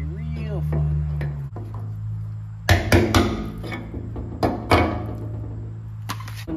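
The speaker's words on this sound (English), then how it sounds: "use a brass punch to take these lock rings out if you can" A brass punch is hammered to drive out gas tank lock rings on a 1981 Jeep CJ5, giving a few clusters of sharp metallic strikes after a brief low voice at the start.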